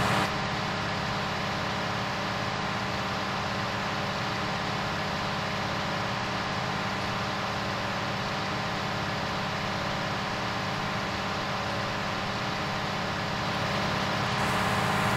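A wood chipper engine in Farming Simulator 19 runs at a steady drone under little load, a constant dense hum with a low rumble that holds unchanged throughout.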